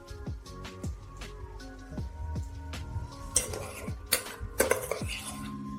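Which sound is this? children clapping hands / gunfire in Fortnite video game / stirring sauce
stirring sauce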